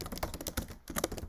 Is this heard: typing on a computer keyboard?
yes